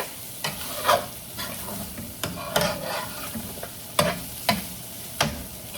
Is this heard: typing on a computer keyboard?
no